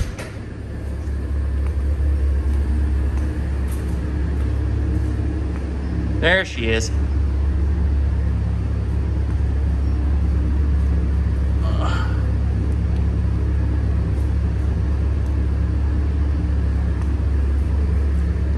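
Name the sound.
Mitsubishi Evo X engine running on dyno, pump gas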